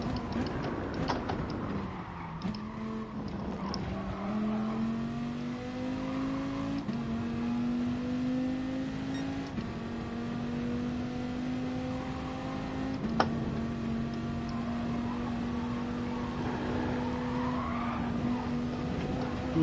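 Race car in Gran Turismo Sport, its engine holding a steady high drone with gear changes that step the pitch up, plus a brief click, continuous and moderately quiet with no speech.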